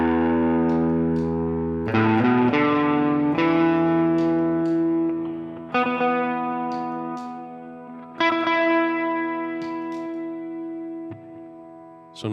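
Guitar through two EHX Freeze sustain pedals with the effect level lowered, so frozen chords swell in on new strums and then fade away fairly quickly, with sustained droning tones between attacks and no talk.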